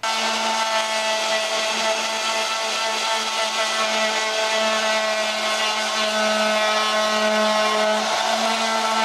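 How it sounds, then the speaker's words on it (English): A power sander grinds plastic motorcycle bodywork on an FZR restoration, flattening an exhaust-burned area down to raw plastic; a continuous loud, steady motor whine with a strong hum runs unbroken throughout. "The next step is to get the power sander and get this area flat."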